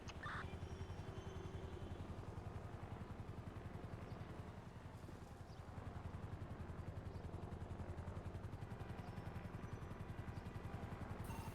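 A helicopter in a Second World War-style video game, its steady low rotor thrum and engine drone holding loud and continuous throughout, with a faint clatter layered over the constant whirring.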